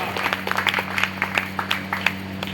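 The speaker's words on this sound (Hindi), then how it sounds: "तालियां बजाना है आप संकेत में देखकर।" Audience members clap at a Hindu sacred thread ceremony in India. The claps are fairly sparse and uneven and sit over a steady electrical hum from the sound system.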